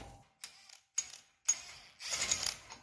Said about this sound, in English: we're going to use a 36 millimeter to take out the axle nut.